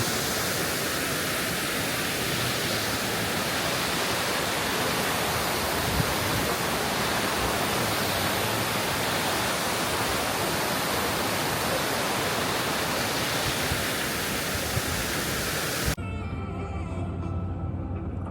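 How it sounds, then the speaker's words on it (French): Kurşunlu waterfalls in Turkey pour with a steady, dense roar of rushing water that holds constant for about sixteen seconds before cutting off abruptly into quieter background. "Je vais vous montrer un petit peu ce que donnent ces cascades."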